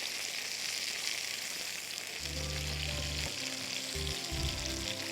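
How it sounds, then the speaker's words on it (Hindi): Eggplant slices fry in hot oil for dahi baingan, a steady sizzle that runs throughout, close and moderately loud, with some stirring or clinking toward the end. "Try and fry them in a single layer, जितने हो सकें जल्दी से।"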